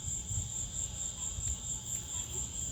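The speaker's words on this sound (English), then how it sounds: "That's a cicada." A large cicada indoors in a home kitchen gives a steady, continuous high-pitched buzzing drone. Low rumbling handling noise sits beneath it, and no one talks.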